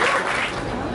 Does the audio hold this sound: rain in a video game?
no